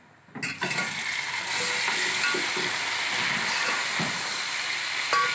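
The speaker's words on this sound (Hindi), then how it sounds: "अब हम इसमें उबला हुआ गोश्त डाल के फ्राई करेंगे।" Boiled beef drops into a pan of browned onions for a beef yakhni pulao, and a sudden hiss swells into a loud, continuous sizzle with occasional stirring scrapes.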